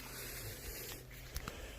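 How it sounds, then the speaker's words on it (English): Pesticide spray misted close-up onto garden lilies infested with whitefly and lily beetle, a steady broadband hiss running unbroken for nearly two seconds, with a couple of faint clicks near the end and no voices. "the pesticide that I'm using, the spray I'm using, treats for everything like that"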